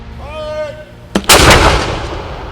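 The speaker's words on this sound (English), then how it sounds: "Pitt State ROTC marked the observance known as Patriot Day with cannon fire" Ceremonial cannon fire from a university ROTC unit marking Patriot Day, one loud sharp blast with a short echoing tail and a second boom trailing into outdoor rumble; a tonal whine sounds faintly just before it.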